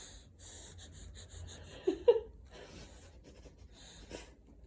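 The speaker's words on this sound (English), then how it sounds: "Are you sniffing like a dog?" A baby makes soft, breathy sniffing and snorting sounds up close, with a brief louder burst of snuffling near the middle and quieter nasal breaths around it.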